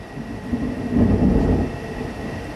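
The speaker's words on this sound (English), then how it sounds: "Storm is getting bad here." A rolling rumble of thunder from a thunderstorm swells in the middle and then fades, a deep, moderately distant roar heard on its own without any voices.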